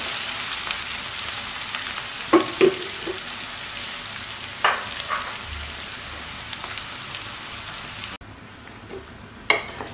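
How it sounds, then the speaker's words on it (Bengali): Chopped onions frying lightly in a pan, a continuous hiss of sizzling oil with a few scraping stirs of the spatula, close and even, with no talking. "এবার কেটে রাখা পেঁয়াজগুলো হালকা করে ভেজে নেব"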